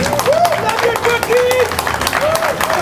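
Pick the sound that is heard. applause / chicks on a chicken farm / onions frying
applause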